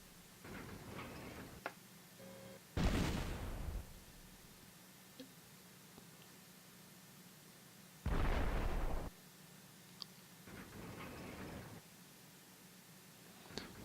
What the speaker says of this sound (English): they're out of range with that artillery, but not for this artillery